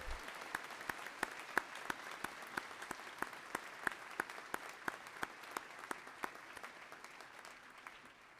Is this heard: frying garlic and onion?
no